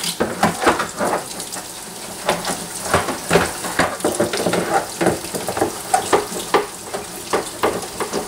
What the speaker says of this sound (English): And I'm going to run hot water.